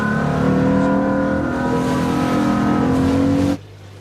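Fishing boat motors run with a steady, loud, droning hum of layered tones, then cut off abruptly near the end, leaving only low background noise.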